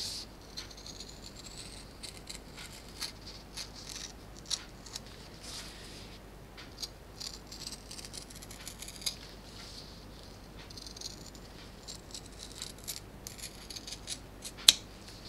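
Scissors snipping out fabric pieces for a fortune cookie purse, a long run of quiet, close, irregular small cuts and rustles with a few sharper snips.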